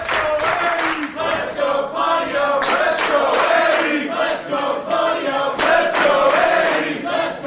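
A loud live crowd at a wrestling show in Wallingford chants and shouts in rhythmic waves, close and continuous, with voices rising together in repeated bursts.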